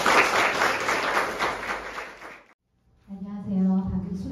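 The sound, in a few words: audience applause welcoming a keynote speaker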